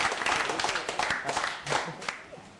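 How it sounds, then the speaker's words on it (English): Audience applause and cheering from the crowd at a 2006 WSVG Quake 4 esports grand final, a dense, steady wash of clapping that swells and fades over a few seconds without speech. "Big round of applause."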